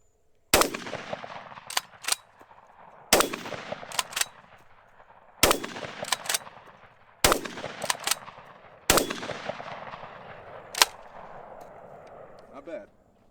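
Loud, sharp gunshots ring out at an outdoor range, about five main blasts a couple of seconds apart, each followed by quicker secondary bangs and ringing echoes. The gun is fitted with a UUQ Eagle C28 red dot sight.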